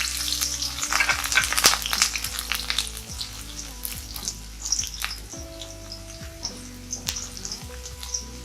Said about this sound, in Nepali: र लसुनलाई एकछिन चलाइसकेपछि हल्का यसलाई पनि पुराउनुपर्छ र अदुवा पनि हाल्दै छु